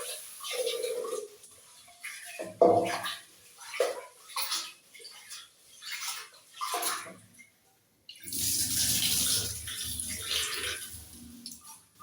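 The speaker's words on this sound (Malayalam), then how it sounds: "അരി കഴുകി എടുത്തിട്ടുണ്ട്" Rice being washed by hand in water, with intermittent sloshing and swishing in short bursts, then a louder stretch of running, splashing water near the end, close up and with no clear talk.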